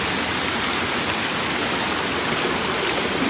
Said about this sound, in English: The water's flowing out and going into the river.